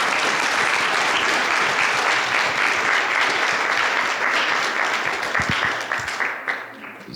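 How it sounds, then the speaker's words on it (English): A round of audience applause for two presenters at a public information session on Memorial Groves, dense steady clapping from a seated crowd that thins and tapers off toward the end. "Let's give Thomas and Jason another round of applause"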